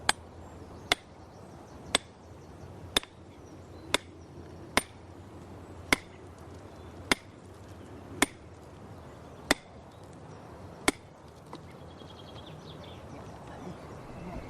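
Hammer blows strike an iron wedge driven into a slab of slate-like rock to split it, a dozen sharp metallic clinks spaced about a second apart, steady and close, over faint outdoor background with birdsong.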